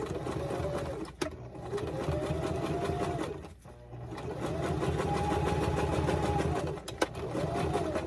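A sewing machine stitches a seam on a pouch, running in steady whirring bursts with brief stops and restarts as it back tacks, loud and close throughout.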